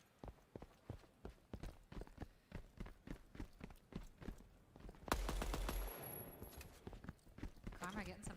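DMR rifle fire in the video game Deadrop, a run of sharp, evenly spaced single shots, loud and close, followed by a heavier blast with a lingering rumble before the shots resume; a voice talks over parts of it.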